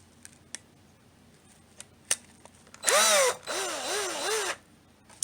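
A power driver sends screws into an electrical plug close up, in two short whirring bursts, the first rising and the second wavering, between faint clicks and taps.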